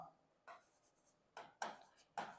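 Handwriting the word Kanchenjunga in Hindi produces a few quiet, close scratchy strokes in short bursts separated by brief pauses.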